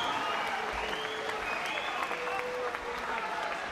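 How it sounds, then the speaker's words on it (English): Boxing crowd applauding in an arena after a fight, steady loud clapping and cheering from a large audience, with an announcer's voice over the noise. "please give a big, big round of applause for Birmingham's Hastings Rasani"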